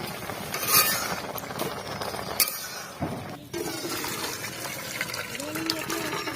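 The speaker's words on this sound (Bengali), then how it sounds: "এখন আমি ভালো করে জলটা ঝরিয়ে নেব।" Water drained off boiled cabbage in a kitchen, pouring and splashing close by with a few clinks of a pot or utensil, while a person talks over it.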